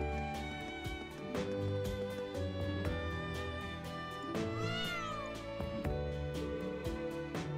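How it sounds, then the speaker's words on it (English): A black cat meowing in the game Trails of Cold Steel IV, a couple of clear, close meows over steady background music. "Oh, look, what an adorable black cat."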